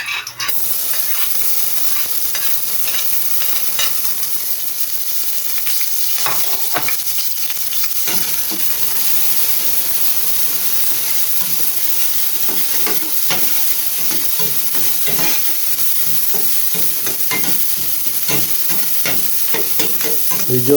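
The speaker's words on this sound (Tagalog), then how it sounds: "Kaya lagay na natin itong bawang at sibuyas niya" Garlic, onion and ginger sautéing in a pan for dinuguan, a steady close sizzle and frying hiss with repeated stirring scrapes throughout, no voices.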